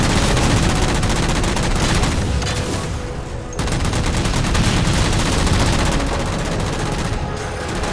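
Relentless rapid gunfire in the video game Halo 4, aimed at shooting down jammers, loud and continuous with a brief dip midway before the barrage resumes at full intensity.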